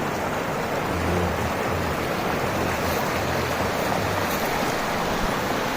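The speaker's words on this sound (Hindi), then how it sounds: "और ये नदी का पानी देखो, अब नीचे देखो नदी का पानी" A river rushes through a mountain valley near the village of Chitkul in Himachal's Sangla Valley, a loud, dense, continuous roar of flowing water with no pauses.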